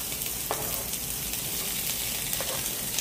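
Sliced jalapeno and green onion frying in hot oil for a toasted sesame stir-fry, a steady, close crackling sizzle with a couple of sharper pops.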